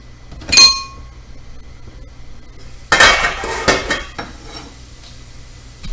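Chopped vegetables are tossed into a pan of cooking onions for an oyster artichoke pasta, with a clink of metal, then a clattering scrape and rattle of utensil against pan, close and without talk.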